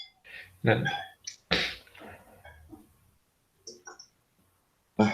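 Several sharp sneezes from a man teaching a trigonometry class, loud and close, with short bursts spread across the moment and quiet gaps between them.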